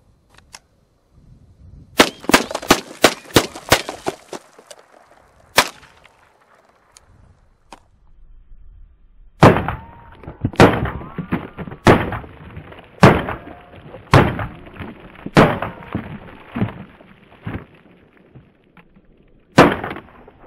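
Rapid shooting of a Ruger 10/22 rifle fitted with a red dot scope, sharp loud reports fired in fast strings, a quick burst, a pause, then a steady run of closely spaced shots.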